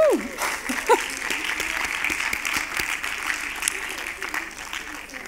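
Applause from an audience at a closing award ceremony of the FIFF 2024 festival, a steady continuous patter of clapping throughout, moderately loud, with a brief voice at the start.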